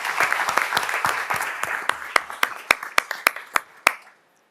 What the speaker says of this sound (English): So big round of applause for those people that participate in the donation drive.